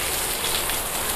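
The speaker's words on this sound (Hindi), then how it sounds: "ये देखिए छत से पानी कितना तेज गिर रहा है" Heavy rain pours down with water streaming off a roof, a dense, loud, continuous hiss and splatter filling the whole clip with no voices.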